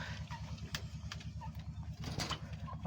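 A breeding pair of pigeons on a rooftop loft coo softly and repeatedly, a low pulsing burble with faint background noise and a few brief higher sounds.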